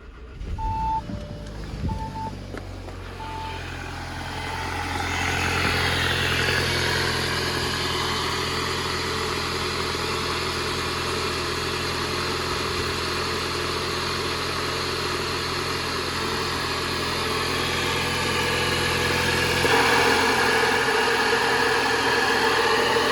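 A 2020 Audi A3 with new spark plugs and RS3 coil packs cold-starts after a few short chimes, then settles into a loud, steady idle that rises slightly near the end, heard up close with no talking.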